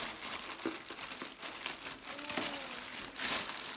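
Thin plastic food-cover bags from an unboxed parcel crinkle and rustle continuously up close, with a steady scratchy texture and sharper crackles as they are handled, with no speech.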